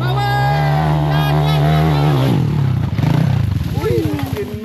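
A motorcycle labours on a rough off-road trail, its engine note rising and wavering as it climbs, then dropping into a rougher, stuttering idle, with people shouting and talking nearby throughout.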